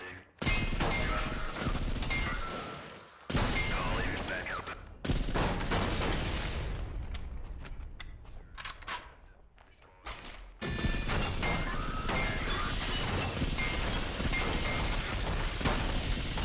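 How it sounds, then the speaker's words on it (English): Dense gunfire and explosions from the Synthetik 2 video game, a loud continuous barrage of rapid shots and bursts broken by a few brief pauses. "I see, the ammo explosion kind of sucks."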